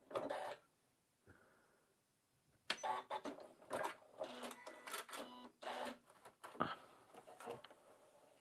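A home sewing machine strains and chatters in short, uneven bursts as it pushes the needle through thick scrap fabric while pivoting, with brief pauses between runs, close and fairly quiet.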